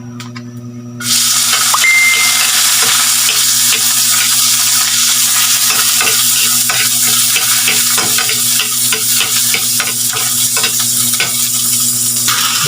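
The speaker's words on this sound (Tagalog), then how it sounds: "Sabay-sabay na ang sibuyas bawang." Chopped onion and garlic hit hot oil in a pan together for a sardine and vegetable sauté, bursting into loud, continuous sizzling with scraping stirs after a quiet moment.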